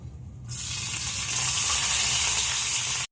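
Sudden loud sizzle as curry leaves hit hot oil in a pan, a bright steady crackling hiss that holds strong for a few seconds before cutting off.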